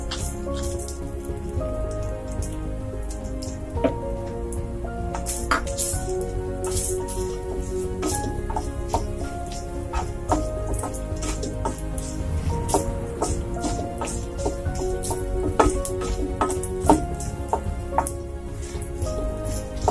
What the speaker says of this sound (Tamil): இப்போ நம்ம இதை எண்ணெயில் போட்டு நல்லா வறுத்துக்கலாம்.